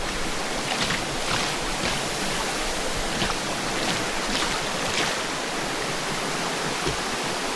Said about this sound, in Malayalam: ഇതാണ് ഫോൾസ് കേട്ടോ.